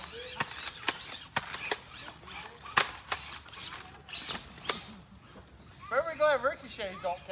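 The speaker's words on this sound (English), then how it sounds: "Ricochets." Bullets from a sniper rifle ricochet in a shooter video game as a series of sharp, sudden cracks spread through the first few seconds, followed by people talking.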